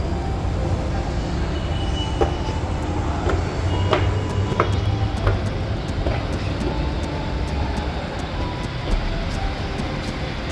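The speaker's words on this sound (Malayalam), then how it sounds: "ഇതാണ് ഇവിടുത്തെ മെട്രോ സ്റ്റേഷൻ" A Kochi Metro train at an elevated station, heard as a continuous loud rumble and hum with a few sharp metallic clicks and clanks, steady throughout against the station's ambient noise.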